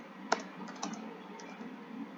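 Code is typed on a computer keyboard in a short, quiet run of uneven key clicks, with no one talking.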